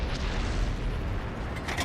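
A tank cannon fires a shell in World of Tanks, from the French AMX 50 120 heavy tank, as a dense, loud booming roar that stays heavy throughout, with a fresh burst near the end.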